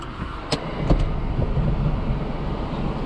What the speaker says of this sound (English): Sorry, my AC is a little loud.